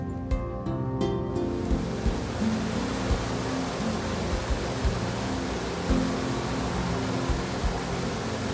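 Small waterfalls on the Villouso mountain stream near Burbia rush steadily in a broad, continuous wash of water noise, close and constant, with a few faint knocks early on.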